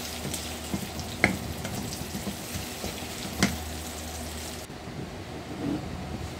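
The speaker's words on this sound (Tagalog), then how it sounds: "Nilagay ko na rin yung sibuyas para maprito ng konti." Chopped onion with garlic frying in a pan for chop suey, giving a soft, even crackle at low volume with a couple of faint clinks and a brief dip near the end.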